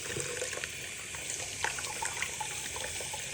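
Tap water running steadily into a sink while an arm is rinsed, a soft continuous hiss with faint splashes and drips throughout.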